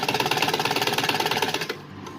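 A sewing machine runs fast, stitching the leg portion of a small summer dress for a Laddu Gopal doll, a close, steady mechanical chatter of rapid needle strokes that stops after about two seconds.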